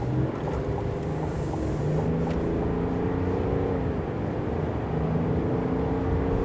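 A 2024 GMC Sierra Elevation pickup with a small turbocharged 3.0 liter diesel accelerating, its engine giving a steady, fairly loud drone whose tone climbs gradually as it gains speed, with no talking.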